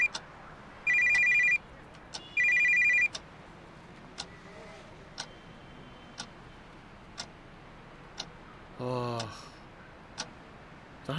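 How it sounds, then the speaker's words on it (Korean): A telephone rings in a horror video game, two short electronic trilling bursts close together near the start. Sparse ticking clicks, like a clock, repeat steadily under a quiet background, and a brief rising chirp follows later. "전화 오는데 받지도 못해요."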